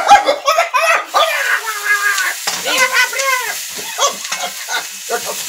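Green chillies frying in a hot pan for Maharashtrian kharda, crackling and sizzling in bursts while being stirred, with a voice talking over the cooking throughout.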